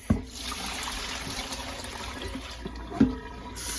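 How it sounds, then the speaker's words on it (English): Corn husks rinsed in a bowl of water: splashing and trickling with a couple of brief sloshing knocks, close and moderately quiet. "So I'm gonna rinse with clean water."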